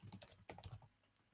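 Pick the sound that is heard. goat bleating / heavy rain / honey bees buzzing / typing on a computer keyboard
typing on a computer keyboard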